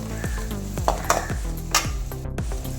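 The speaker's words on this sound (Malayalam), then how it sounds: "അല്പം ഒരു രണ്ട് തണ്ട് കറിവേപ്പിലയും കൂടി ഇട്ട് നന്നായിട്ട് വഴറ്റിയെടുക്കാം" Curry leaves sautéing in a pan for a beetroot, cabbage and carrot thoran: a steady background sizzle with several sharp spatula scrapes and knocks against the pan, close and fairly loud, no talking.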